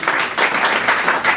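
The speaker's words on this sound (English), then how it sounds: "I'd like to give just a round of applause to Chief Bennett and Community Resource Officer Kevin Albert." A short burst of audience clapping at an urban wildlife awareness class, a round of applause for a police chief and a community resource officer, with dense hand claps rising and falling briefly.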